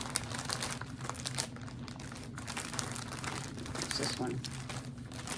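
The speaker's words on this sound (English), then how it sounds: "Oh, that was a lot of crinkling, sorry." Plastic packaging crinkles and rustles almost continuously, close and fairly loud, with a low steady hum beneath and a voice talking briefly over the handling.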